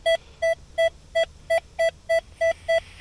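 A Rutus Verus metal detector sounds its target tone while hunting a medieval moat, giving a string of nine clear, evenly spaced beeps of equal pitch, loud and close, with no speech.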